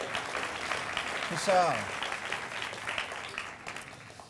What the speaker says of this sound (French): Applaudissements pour Riri, s'il vous plaît.